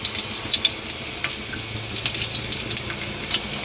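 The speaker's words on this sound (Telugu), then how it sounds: "వెల్లుల్లిపాయలు, జీలకర్ర, ఆవాలు," Garlic, cumin and mustard seeds sizzle in hot oil for a seasoning: a steady, bright hiss scattered with small crackles and pops, close and even, with no one speaking.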